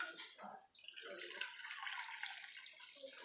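Filtered water, about three cups, pours into a container for a homemade cold and flu remedy as a quiet, steady trickling stream that lasts a few seconds.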